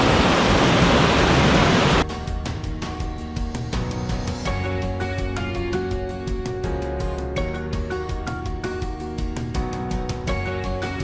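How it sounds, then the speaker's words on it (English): Fast stream water rushing over rocks along a forest hiking trail, a loud, broadband roar for about two seconds before it is cut off and replaced by music. "the fast running water through the rocks, all the way up and all the way down"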